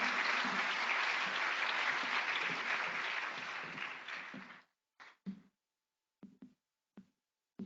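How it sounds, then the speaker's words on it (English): An indoor audience at a wildlife talk on grizzly bears applauds in a dense, even wash of clapping that fades after about four seconds, leaving a few scattered late claps. "join me in a round of applause"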